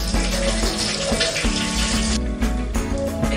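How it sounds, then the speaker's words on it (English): Hot pasta cooking water pours from a pot into a sieve in a kitchen as the cooked pasta is drained for a crab and pasta salad, a steady gushing splash that runs loud and close throughout without a break. "I'm now going to remove it from the water and sift it here."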